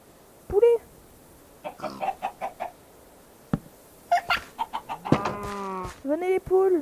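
Chickens clucking in a French-language video game, a series of short clucks and squawks spread through the clip, fairly loud, with a voice talking over part of it.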